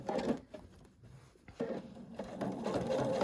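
A sewing machine top stitching a bag hums and patters close by in steady bursts, slowing briefly in the middle before picking up again.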